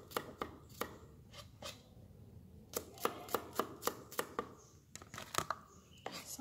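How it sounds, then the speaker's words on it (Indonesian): Two garlic cloves sliced with a knife on a board for Indonesian sambal iris, a series of crisp close chops in irregular quick runs, some clustered rhythmically, with quiet pauses between. "Pakai 2 siung bawang putih, aku iris-iris juga ya."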